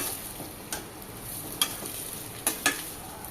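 Salted potato masala filling for dosa being stirred in a pan, with a soft continuous sizzle and a few sharp spoon scrapes and clinks against the pan, close and without talk.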